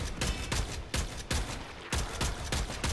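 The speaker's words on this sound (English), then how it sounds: "Now I can shoot all crazy as I want." Rapid bursts of Warframe gunfire crack out in a steady, repeated rhythm, each shot loud and close with short gaps between volleys, and no voice over them.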